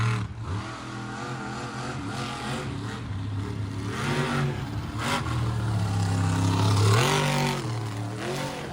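A monster truck engine roars and revs hard through a freestyle run in an arena, the loud growl rising and surging in waves with no talk over it.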